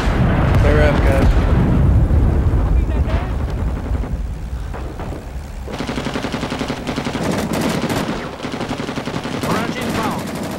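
Artillery barrage in the Vietnam War shooter Rising Storm 2: Vietnam, with heavy booming blasts and rumbling up front, then dense gunfire and further impacts crackling on, loud throughout, with voices talking underneath.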